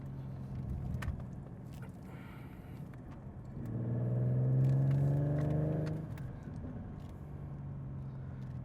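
Ford Mustang with a 3.7 V6 engine revs up loudly as it accelerates and downshifts, a rising engine swell for about two seconds before settling back to a steady road rumble.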